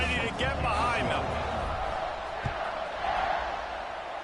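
A football stadium crowd roars continuously at an NCAA kickoff, a loud broad wash of cheering and shouting that holds steady throughout, with a single thump partway through.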